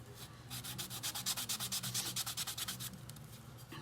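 Rhythmic back-and-forth sanding strokes rub along the edge of a glitter-coated tumbler, about a dozen quick scratchy passes close up, steady and fairly loud with no talking.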